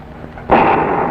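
A single loud thunderclap from a storm breaks suddenly after a quiet stretch, then rolls on as a broad, rumbling roar.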